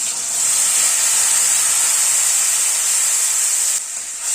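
A yogurt spice paste hits a hot pan already holding whole white cumin seeds and bay leaves, for a Bengali rohu fish curry, giving a loud, steady, hissing sizzle that barely changes and carries on alone without talk.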